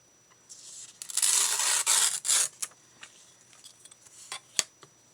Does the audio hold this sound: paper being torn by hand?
yes